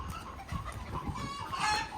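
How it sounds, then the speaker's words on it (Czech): Hens on a New Zealand farm cluck and fuss at feeding time, a close, busy scatter of short clucks over soft thumps and scuffling, growing a little louder and brighter near the end. "Takže tady krmíme slepice."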